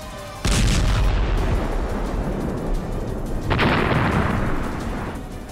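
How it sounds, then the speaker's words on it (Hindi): A HIMARS rocket strike destroys a Russian TOS-1A rocket system, with a sudden loud blast followed by a long rumbling roar, then a second burst of noise midway that fades out. "हिमार्स रॉकेट जोरदार धमाके के साथ उसे तबाह कर डालता है"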